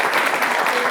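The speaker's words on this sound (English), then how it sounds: "A big round of applause for Anita." A crowd claps loudly and continuously, dense applause filling the whole moment.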